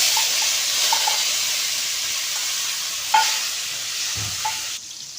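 Panch phoron and tomato hit hot oil in a kadai, giving a steady broad sizzle with a few soft clinks of a spoon against the pan, close and fairly loud, without talk.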